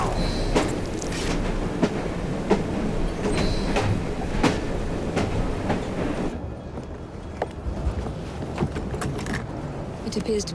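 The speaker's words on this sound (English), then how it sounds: "at least we have a train now" A train rumbles in the video game Assassin's Creed Syndicate, a steady loud mechanical roar with scattered sharp clanks and knocks that eases slightly toward the end.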